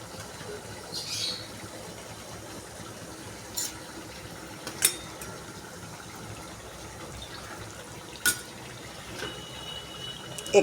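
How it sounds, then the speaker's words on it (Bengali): A little water is poured into a pan of fish curry cooking with oil, giving a soft, faint splashing gush under low background noise, with a few brief clinks. "একটুখানি জল দেবো মাছটা সেদ্ধ হওয়ার জন্য"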